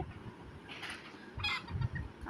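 Desi chickens, including a rooster and a laying hen, cluck in short bursts, a couple of brief calls close by against quiet background noise.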